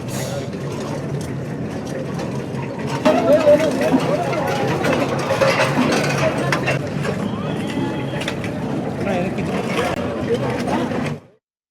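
A road roller crushes seized modified motorcycle silencers at NTR Chowrasta in Nizamabad, producing a loud, steady mechanical rumble with metallic clanks and grinding, accompanied by background chatter, before it stops suddenly.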